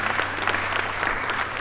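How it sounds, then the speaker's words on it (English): An audience at a cloud-cost FinOps conference session in San Diego claps for the presenters. The brisk, even applause is close and continuous, with no voices over it. "let's give them a round of applause"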